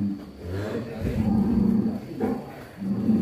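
A horned cow lows in deep, drawn-out moos, two long calls rising close and loud over faint background noise.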